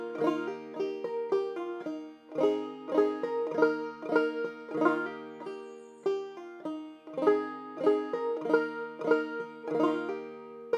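A clawhammer banjo plays a tune, with bright plucked notes and brushed strums in a steady, bouncing rhythm, close and clear throughout with no talking.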